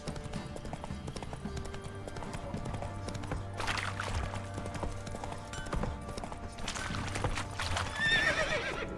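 In The Witcher 3 video game, the horse Roach gallops with quick rhythmic hoofbeats and lets out loud neighs and whinnies. A game score plays underneath and a brief voice comes in.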